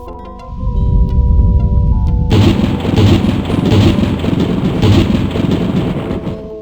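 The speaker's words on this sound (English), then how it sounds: "Looks like a big storm." A thunderstorm in Day of the Tentacle breaks out with a sudden loud rumbling crash after a quieter opening, then continues as heavy, dense roaring noise of thunder and rain.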